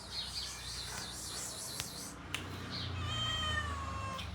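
A person's voice imitates a cat's meow, trying to draw a cat's attention at home. Drawn-out, wavering mewing calls sound close and fairly clear, rising in strength toward the end.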